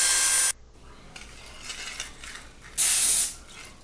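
Krylon gray primer sprays onto a Matchbox Dodge Challenger toy car in two short hissing bursts, the first about half a second and the second a longer burst near the end, with quiet handling noises between.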